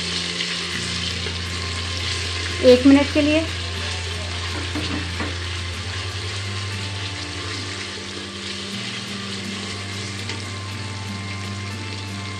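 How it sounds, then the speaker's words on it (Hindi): Garlic frying in a pan with a steady sizzle and some stirring clatter, a voice briefly speaking over the continuous crackle. "अब हम यहाँ पे पहले लहसुन को भून लेंगे थोड़ा सा"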